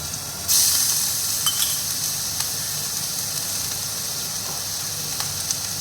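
Crushed garlic hits hot oil in a pan with a sudden loud sizzle that settles into a steady frying hiss, with a few light utensil taps, no talking.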